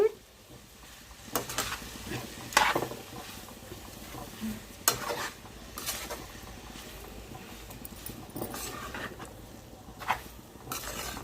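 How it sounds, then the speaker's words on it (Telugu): Shark puttu being stirred and fried in a pan, with scraping spoon strokes and clinks over a soft, steady sizzle, close and moderately loud. "కొంచెం బాగా కలిపేసుకుందాం దీన్ని బాగా ఏగాలండి"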